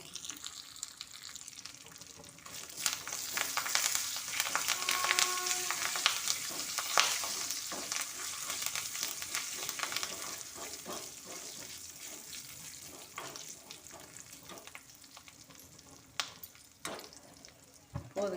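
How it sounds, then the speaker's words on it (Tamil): Curry leaves crackle and sizzle in hot oil for peanut chutney, a bright spattering hiss with sharp pops and stirring scrapes, close by and gradually settling. "போதுங்க, கருவேப்பிலாம் பொரிஞ்சிருக்கு"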